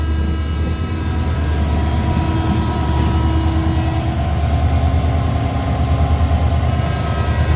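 A WDG4 diesel locomotive with a passenger train rumbles steadily close by, a loud, continuous engine drone with a constant hum and no clear breaks.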